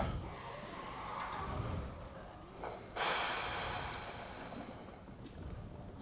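Pressure bursts out of a car's cooling system with a head gasket fault when the cap is opened after driving, giving a sudden loud gassy hiss that rushes out and slowly fades over a few seconds, with no talk.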